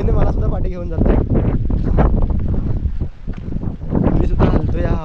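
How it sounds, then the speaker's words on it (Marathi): Strong wind gusts roar across the open ramparts of Rajmachi fort, loud and continuous against the microphone, with someone talking over the buffeting throughout. "वारा एवढा आहे की हवेने मला सुद्धा पाठी घेऊन जात आहे."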